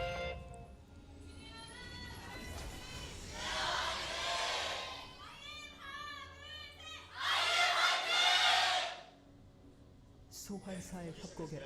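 A live esports audience at a League of Legends match (Jin Air Green Wings versus Longzhu IM, LCK Summer 2015) erupts in two swelling waves of cheering and shouting, mixed with commentator talk between the bursts.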